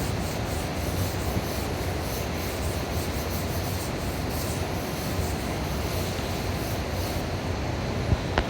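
Asphaltum markings being rubbed off a lithography stone: a steady, close scrubbing rasp that continues evenly without pause.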